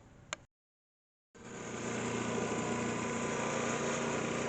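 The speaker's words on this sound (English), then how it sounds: "That's a snow blower" A snow blower runs outdoors after a blizzard. A short burst of sound and a brief silence give way to a steady, droning engine roar, moderately distant and constant.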